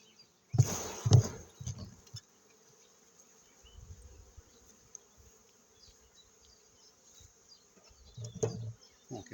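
Faint buzzing of honeybees at a hive hums in the background, broken by a few sharp knocks and thumps as frames are handled and bees shaken off up close.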